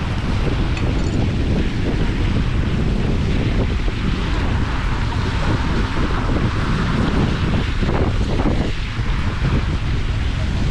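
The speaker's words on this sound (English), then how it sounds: "This little waterfall right here" A small waterfall in White River Park, Indianapolis: steady broadband rush of falling water, loud and close, with a constant splashing roar and no pauses.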